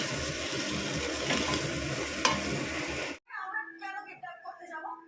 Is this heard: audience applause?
no